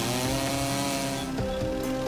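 A chainsaw runs at high, steady revs while cutting a tree, a loud close buzzing drone with a slight pitch dip partway through and no talk.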